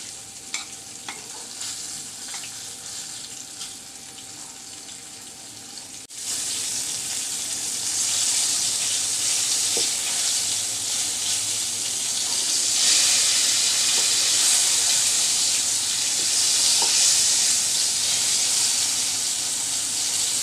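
Whole loitta (Bombay duck) fish dusted in dry flour, with no egg or gram flour, sizzles steadily in hot oil. A quieter stretch gives way to a louder, sustained frying hiss, with occasional stirring noises and no voices.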